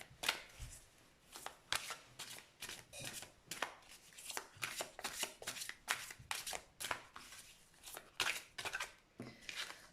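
Oracle cards being shuffled by hand in repeated quick riffling bursts, close and crisp, with brief pauses between flurries and no talking.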